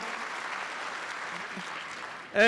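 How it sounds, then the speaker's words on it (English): Steady applause from the crowd at the Canadian Game Awards ceremony, even and sustained for a couple of seconds before a louder burst of sound cuts in at the end. "give you guys a round of applause"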